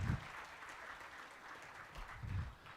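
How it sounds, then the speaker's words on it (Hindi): An audience at a literature festival in Gumla applauds. The clapping is faint and distant, swelling briefly at the start and again near the end, with a low murmur between. "जोरदार तालियां आप सभी अपने लिए बजाएं।"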